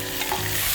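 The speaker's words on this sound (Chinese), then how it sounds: "我们还有点虾一起给它煎一下" Crab and shrimp frying in hot oil in a wok, giving a steady close broadband sizzle with light stirring and scraping throughout.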